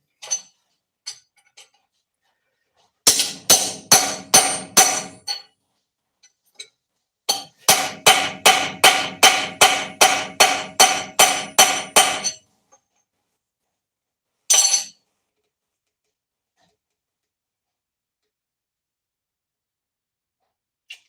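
A homemade steel chisel is hammered into a thick stainless steel round rod: two long runs of rapid, evenly spaced ringing metal blows, separated by pauses, with a few isolated taps before and after.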